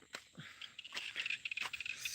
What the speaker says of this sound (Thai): เสียงเขียดจะนะ แอดแอดแอดแอดนะครับ